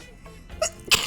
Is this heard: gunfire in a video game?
no